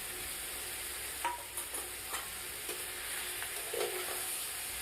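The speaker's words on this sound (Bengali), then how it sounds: "এবার খুন্তি দিয়ে ভালোভাবে মশলা দিয়ে এঁচোড়টাকে কষিয়ে নিতে হবে।" A spatula stirs and scrapes green jackfruit in a pan with turmeric, ginger paste and cumin paste, giving soft, intermittent scrapes over a faint, steady sizzle.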